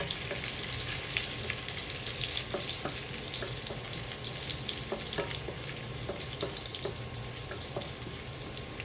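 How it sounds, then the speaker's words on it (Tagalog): Onion and garlic sautéing in a pan, a steady faint sizzle with scattered light clicks and scrapes of stirring throughout, and no voices. "Igigisa na tayo."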